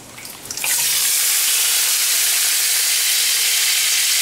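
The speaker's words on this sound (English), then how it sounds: "We're gonna take this Mountain Dew, we're gonna add a little bit to the bacon." Mountain Dew poured onto bacon frying in a pan, a soft crackle quickly swelling into a loud, steady, hissing sizzle that holds for several seconds, with no talking.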